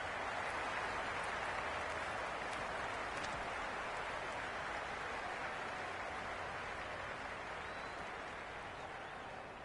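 A large cricket crowd in the video game Cricket 26 roars and applauds in a continuous wash of cheering, holding steady before easing slightly toward the end.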